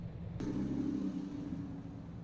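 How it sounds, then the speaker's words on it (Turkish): A low car engine rumble in the Roblox game Vehicle Simulator starts abruptly and holds steady, a deep exhaust drone with a faint idle pulse, continuous and fairly close. "egzoz bile sesi güzel"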